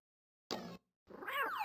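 A cat meows twice in the Where in the World is Carmen Sandiego? game, first a short flat call, then a longer rising and falling meow after a brief silence.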